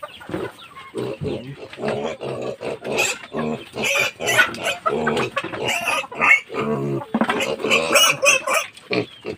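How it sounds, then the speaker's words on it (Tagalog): Hungry pigs on a farm grunt and squeal loudly and continuously at close range, a dense overlapping chorus of snorts with no pauses. "gutom na gutom yung mga baboy"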